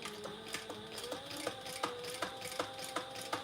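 A sewing machine runs steadily while back stitching black on black, its mechanism ticking in an even, repeating rhythm of sharp clicks, close and alone.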